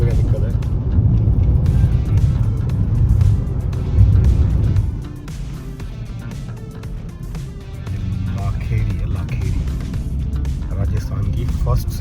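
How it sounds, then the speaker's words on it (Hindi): Road traffic in Delhi, heard from a vehicle on a road trip: a steady low rumble of engines and passing cars under people talking throughout, louder at first and then easing into a quieter drone. "तो ट्रैफिक तो दिल्ली में ही बहुत है"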